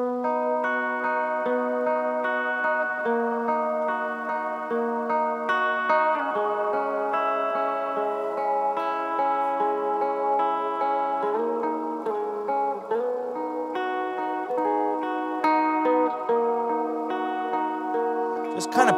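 An electric guitar played through a reverb pedal rings out sustained notes and chords drenched in reverb, each tone blurring into a long shimmering tail.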